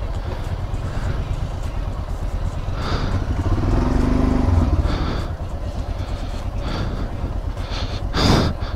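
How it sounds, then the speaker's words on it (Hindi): Motorcycle engine revving in snow on the Sela Pass mountain road near Tawang, a steady rough drone with a few louder surges and some clatter, close by, while people call out in the background. "अमन रेस नहीं देने, हाँ रेस कम रेस कम रेस कम"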